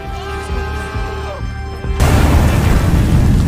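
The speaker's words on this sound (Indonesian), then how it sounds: "Nazi membalas menembakkan artileri ke desa Ovsyanikovo" Artillery shells exploding in a war film scene, with a sudden loud, broad blast at about two seconds that keeps rumbling to the end, after a quieter stretch of tonal music and low thuds.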